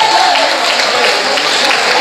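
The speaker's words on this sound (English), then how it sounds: "Give my parents a round of applause." A comedy club audience applauds for a couple married 45 years, a dense, steady burst of clapping that fills the whole moment at close range.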